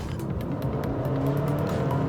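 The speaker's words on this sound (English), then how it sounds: "Engine revs rise, but there's not a corresponding increase in road speed, and it gets so noisy" A mid-size SUV engine with a CVT gearbox revs hard under heavy acceleration, giving a loud, steady, droning engine note with little change in pitch over two seconds.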